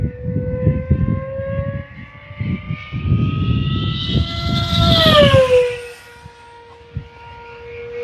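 An E-flite V1200 V2 RC plane with a 1.2 m wingspan flies a close pass, its loud whining motor holding pitch, rising in intensity, then dropping sharply in pitch as it passes and fades to a fainter drone.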